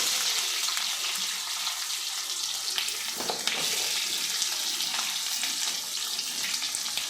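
Chopped onion hitting roasting peanuts in a hot pan for bisi bele bath, a dense continuous sizzle and crackle with faint stirring scrapes, close and steady throughout.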